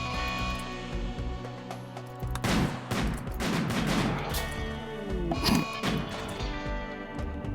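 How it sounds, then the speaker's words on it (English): Sniper rifles and other gunfire in the colony sim RimWorld crack in uneven bursts with sharp impact hits over a steady tonal game soundtrack, loudest in two clusters midway and near the end. "you're being ripped apart by sniper rifles"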